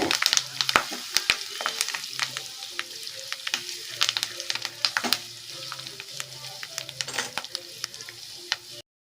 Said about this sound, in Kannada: ಕರಿಬೇವು ಹಾಕೊಳ್ತಾ ಇದ್ದೀನಿ ಇದು ಸ್ವಲ್ಪ ಫ್ರೈ ಆಗಲಿ